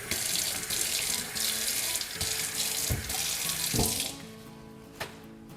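Water runs from a tap in a steady splashing stream onto a paper towel, briefly interrupted a few times before being shut off, leaving a couple of light drips and clicks.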